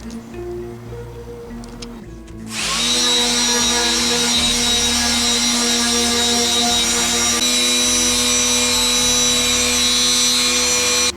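A power sander starts after a quiet moment and runs steadily against wood, a loud, even whirring hiss held without pause.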